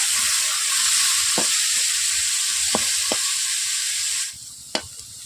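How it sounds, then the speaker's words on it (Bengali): Carrots and potatoes frying in a pan, a loud steady sizzle with a few brief scraping stirs, the hiss dropping away sharply near the end before one last stir. "দেখতেই পাচ্ছেন গাজর আলু ভাজা হয়ে গেছে"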